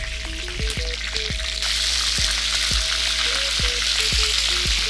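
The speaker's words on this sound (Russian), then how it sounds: "Можно начинать жарить грудку. Пока что утиную грудку." Duck breast sizzles steadily in a hot pan, a loud continuous fry with a few light knocks and clinks throughout.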